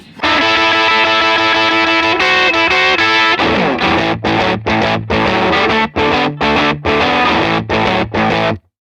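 Electric guitar run through an all-analog boutique pedalboard set to high-gain fuzz, loud and saturated: sustained chords for a few seconds, then a series of choppy, rhythmic stabs with short gaps, no talking.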